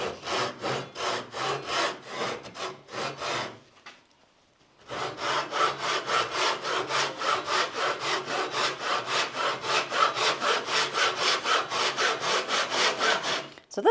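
A hand pull saw cuts through wood in steady, rhythmic rasping strokes, close and loud. Sawing stops briefly near four seconds, then resumes faster and continues evenly, with no talk.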